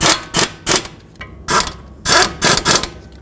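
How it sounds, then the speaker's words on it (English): Ratcheting wrench snugging and torquing the caliper bolts on a 2006-2011 Chevy HHR front brake caliper, a series of close, crisp mechanical clicks in short bursts with brief pauses between strokes. "Snug them up and then torque them to 26 foot-pounds"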